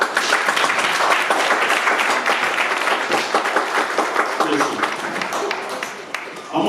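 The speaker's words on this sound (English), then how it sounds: "Give yourself a freaking hand clap" A middle school football banquet crowd claps and applauds in a continuous, busy patter of many hands, with voices mixed in and the clapping thinning slightly toward the end.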